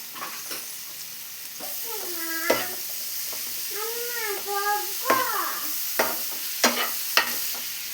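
Spinach fries and sizzles in oil with spices while a spoon stirs it, giving a series of scraping clicks. A cat meows several times in drawn-out cries over the sizzle.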